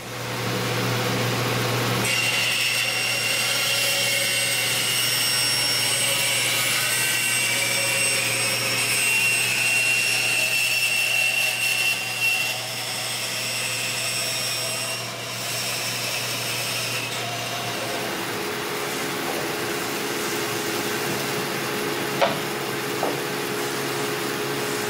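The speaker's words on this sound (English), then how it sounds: "the next stage would be sanding all the way around this" A power sander working around a salvaged prosthetic part makes a loud, steady high whirring grind for most of the stretch, then drops to a lower, quieter running tone near the end with a couple of small knocks.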